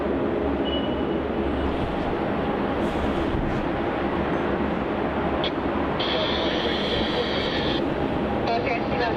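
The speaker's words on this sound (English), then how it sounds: "the Air New Zealand flight NZ211 from Christchurch, an Airbus A320 Neo. landing on runway 34" An Air New Zealand Airbus A320neo lands at Melbourne Airport, producing a loud, steady broadband jet roar throughout. A brief higher whine joins near the end.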